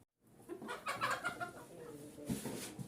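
A hen clucks several times close by, short low clucks in a loose sequence, with some rustling and no speech.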